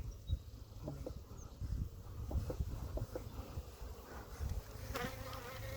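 Faint, steady buzzing of many honey bees close by at hive frames, a soft droning hum with a few louder passes.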